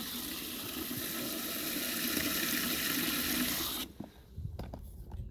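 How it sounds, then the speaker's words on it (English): Water gushes hard from a garden hose fed by a pond pump, a loud steady rushing splash that cuts off sharply near the end, leaving faint knocks and drips. "I am super surprised with the pressure from this pump, because I expected just a trickle."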